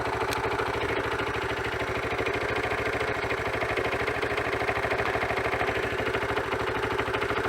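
A Honda CT 110 Trail motorcycle engine idles steadily and close by, with an even, rapid low putter that holds constant throughout.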